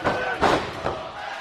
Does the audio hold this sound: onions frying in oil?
no